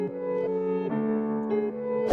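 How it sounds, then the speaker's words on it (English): A dark piano pitched up 600 cents in FL Studio plays held chords that shift a few times, brighter and thinner in tone, steady and alone with a small burst at the very end. "I pitched up 600 cents because it was very dark and muddy"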